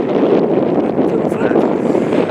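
Wind buffets a boat at sea, a dense, steady roar of gusts over the microphone that keeps up without a break while someone talks over it.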